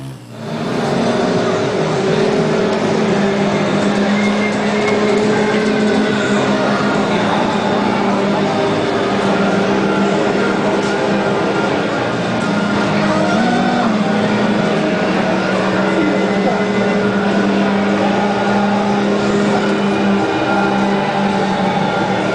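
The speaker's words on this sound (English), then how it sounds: "Kelly, you're going too fast." Motorcycle ridden fast, a steady loud engine drone with rushing wind noise lasting over twenty seconds, with some talking mixed in.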